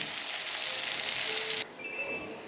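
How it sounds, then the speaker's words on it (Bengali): Potatoes fry in hot oil with a loud, steady sizzle that fills the clip, dropping suddenly to a quieter fizz near the end as the pan is moved or the potatoes are lifted out. "আলুটা ভেজে আমি তুলে নেব।"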